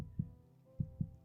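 Heartbeat sound effect in a film: soft, low thumps, one then a quick pair, heard alone and fairly faint against a quiet hum.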